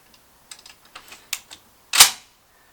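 Three more cartridges being loaded into an M1 Garand rifle: a run of small metallic clicks and taps ending in one sharp, loud mechanical clack, close up and without talk.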